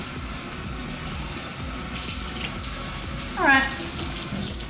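A tap runs steadily while rice is rinsed, a close and constant rush of water that barely changes, with a brief spoken word near the end.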